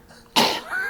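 A single sharp, close cough bursts out after a brief quiet moment, then trails off into a softer rasping exhale.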